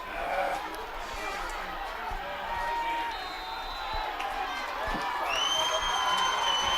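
A high school football crowd at the Cadillac versus Big Rapids overtime game roars steadily with cheering, whoops and whistles, a dense wall of noise that swells toward the end while announcers talk over it.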